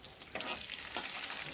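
Bay leaves, cardamom, cloves and onion hit hot mustard oil, a quiet close sizzle that swells as the ingredients go in, with a couple of soft stirring scrapes.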